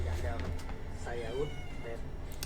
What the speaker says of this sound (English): You can hear my kitten.